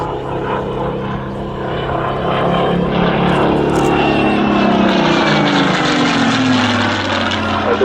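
A Spitfire propeller aircraft flies past at an airshow at RAF Cosford, a loud steady engine drone with a falling pitch as it passes close by and pulls away.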